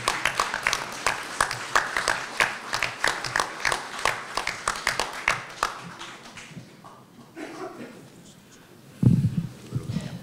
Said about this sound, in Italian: Carlo Pagnini, che accoglierei con un applauso.